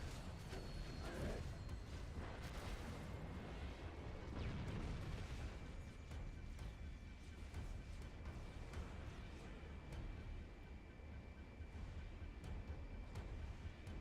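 Gameplay in Halo: Combat Evolved with a dense, continuous rumble of explosions and weapon blasts, heavy and booming, with sharp bursts scattered throughout and no talking.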